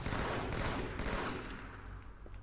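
A grenade goes off in the online shooter Halo 2, a dense burst of blast and rumbling debris that fills the whole moment and slowly tails away, amid chaotic game combat noise.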